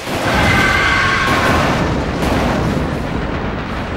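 Weapon fire and explosions from the PS2 game Global Defence Force merge into a loud, continuous booming roar with rumbling blasts and a brief whistling tone, filling the whole stretch.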